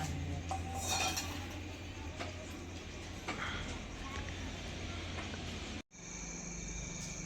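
Metal ladles clink and scrape against pots on a coal-fired clay stove, a steady stream of close, light clattering kitchen sounds with a background hum, cut off abruptly near the end; a voice talks over it.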